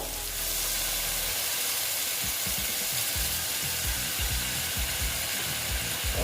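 Thick milk hits a hot pan of pointed gourd curry, setting off a loud, continuous hiss and sizzle with bubbling crackles, close and alone throughout.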